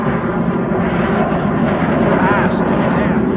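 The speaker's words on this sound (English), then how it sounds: "Here's another fighter jet." A fighter jet roars overhead as a loud, steady broadband rumble that fills the whole stretch, with a faint whine rising near the end.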